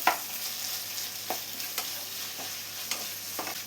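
Two sliced onions fry in hot coconut oil with spices for a chicken kurma, a continuous close sizzle with occasional soft scrapes of a stirring spoon, no voices.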